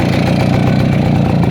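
A Voskhod motorcycle engine running after being restarted on an empty fuel tank, a steady close, loud mid-pitched idle putter with no revving.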